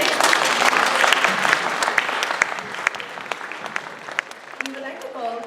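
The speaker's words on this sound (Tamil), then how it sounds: "உங்களோட ஹார்ட் ஒர்க், பேஷன் அண்ட் எஃபர்ட்ஸ்க்கு ஒரு பெரிய கைத்தட்டல் கொடுக்கலாமே" Audience applause fills a music school performance hall, dense steady clapping from a crowd that gradually thins and softens toward the end, with a few voices rising faintly beneath it.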